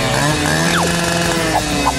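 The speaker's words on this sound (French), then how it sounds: "Je vais avoir besoin d'une vraie tronçonneuse pour couper cette barre de chocolat." A chainsaw cuts through a chocolate bar in a food-challenge comedy. A loud, continuous engine buzz holds steady throughout, with a brief falling whine partway through.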